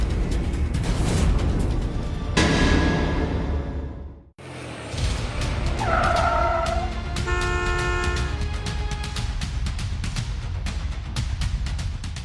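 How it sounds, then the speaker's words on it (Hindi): A car horn toots several times as a car pulls up, the honks ringing clearly over a busy background, with a brief hush in the middle before more horn blasts and passing motion. "लगता है आपकी कार आ गई है।"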